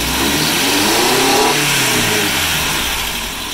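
A Toyota 22RE four-cylinder engine revs up from idle during a fuel pressure check, a loud, close, rough mechanical roar that holds steady and then eases slightly, sounding noisy and harsh.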